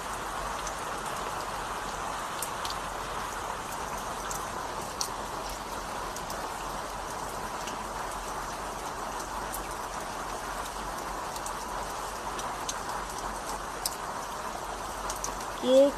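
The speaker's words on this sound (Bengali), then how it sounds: "প্রচণ্ড বৃষ্টি পড়ছে।" Heavy morning rain falling outdoors, a steady, even hiss of raindrops on surfaces with occasional distinct drips, continuous and moderately loud throughout, with a brief knock right at the end.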